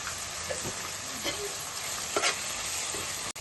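Ginger paste sizzles and fries in a pan of mint and coriander for egg biryani, with a steady close hiss and a few scraping stirs, no voices.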